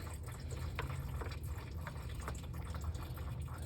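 Coolant drains from the 4.9L inline-six of a 1993 Ford F-150 during a water pump replacement, a steady close liquid splatter and trickle into a drip pan with a few sharper drips, continuous throughout with no talking.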